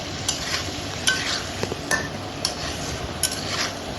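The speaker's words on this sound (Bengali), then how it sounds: "তো এবারে আমি আলুগুলো ভালো করে নেড়ে চেড়ে ভেজে নেব।" Potatoes seasoned with salt, turmeric and chili powder being stirred and fried in a pan, with repeated scraping and clinking of the spatula against the metal over a soft steady sizzle.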